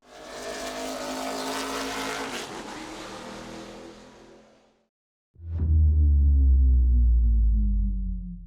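A turbocharged car engine cranks and catches, settling into a loud, steady idle after a few seconds of quieter mechanical noise and a brief silence, close by with no talking.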